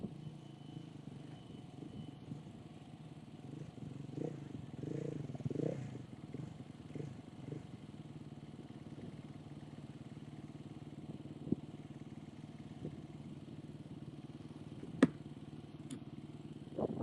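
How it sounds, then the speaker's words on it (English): Husqvarna 450 rally motorcycle idling at the start line of a desert rally stage in Abu Dhabi, a steady low engine burble with a few throttle blips early on and faint crowd and background noise around it. "number 34, Martin Ventura here from Portugal on his Husqvarna 450, getting ready to start."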